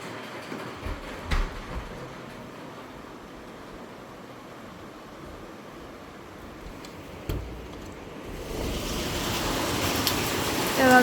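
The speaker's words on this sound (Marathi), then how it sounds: "तर बघा जोरात पाऊस पडतो खूप." Heavy rain pours down as a steady, broad hiss that swells louder toward the end, with a few sharp knocks and a brief voice early on.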